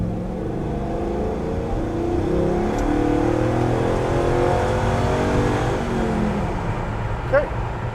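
A 1967 El Camino LS-swapped restomod accelerates on a highway, its engine note rising smoothly and steadily over several seconds beneath road and wind noise, close and fairly loud.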